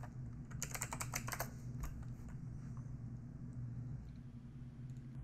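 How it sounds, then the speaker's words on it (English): Rapid keystrokes on a computer keyboard, a quick burst of clicks near the start that thins to occasional taps, over a steady low hum of background rumble. "So we'll just go ahead and type in base64 URL encoder."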